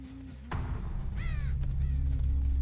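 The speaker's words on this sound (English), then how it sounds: "I just heard AFK crows, I'm pretty sure." Crows cawing in a video game, a few harsh drawn-out caws standing out over a low droning game background, moderately loud and close.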